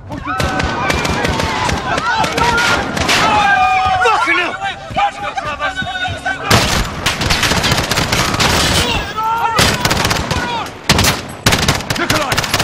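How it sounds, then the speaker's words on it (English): Rapid bursts of Call of Duty: Modern Warfare gunfire, loud and close, crackling in volleys with a brief pause midway, under shouted voices and chaotic battle noise. "The gunshots, of course."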